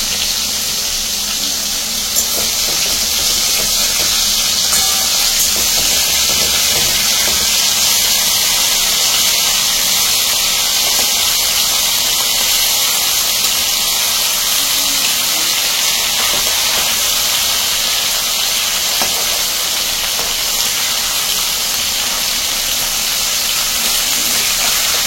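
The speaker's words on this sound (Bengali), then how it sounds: "আমি এখন মাছগুলোকে হালকা ভেজে নেব" Pieces of hilsa fish frying lightly in hot oil in a kadai wok give off a loud, continuous, even sizzle that hisses steadily throughout with no talk.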